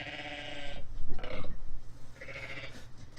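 A goat in the video game Everything gives a couple of nasal, wavering bleats, one near the start and another toward the end, moderately loud with faint background noise and no talk.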